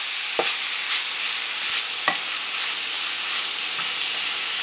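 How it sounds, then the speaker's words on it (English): Bell peppers and onions sautéing with sausage in a pan, a continuous close sizzle broken by a few sharp stirring scrapes and clacks. "So we're going to let this saute up till it's translucent."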